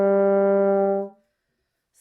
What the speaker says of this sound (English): And that's what's known as a lip slur.